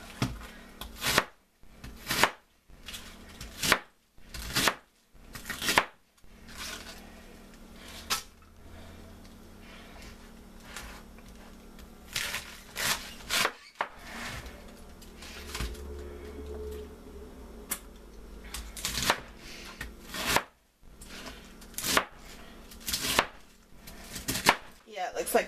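A knife cuts the sides off a head of cabbage on a cutting board, giving a series of crisp, close chops and crunches in irregular bursts with quieter pauses between.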